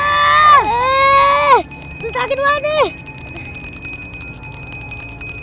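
A bell rings in repeated bursts, first a long loud ringing then a second shorter one, with a voice groaning and talking over it before the ringing stops.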